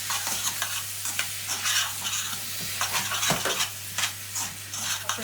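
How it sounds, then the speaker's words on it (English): Tomato puree being stirred into a sizzling thick Indian curry sauce, a busy crackling sizzle with continual scraping and clinking of a spoon against the pan, close and moderately quiet, over a low steady hum, no talking. "Stir that into it."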